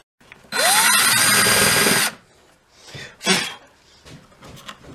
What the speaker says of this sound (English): Now we're going to turn it over and use the tad bigger bit for our